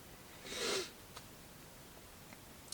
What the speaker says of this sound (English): I am sniffling a little bit